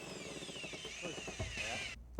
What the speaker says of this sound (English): I drill into the adjoining wall cavity and mark the location